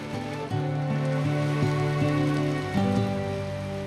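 Steady rain patters onto an open, roofless cycle rickshaw in rural Bangladesh, a continuous wash of drops with soft music playing underneath.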